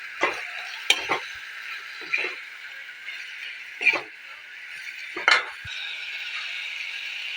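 Potatoes and drumstick pieces for a drumstick curry fry in a pan, a continuous hiss of oil broken by several sharp clattering scrapes of stirring against the metal, close by and with no talking.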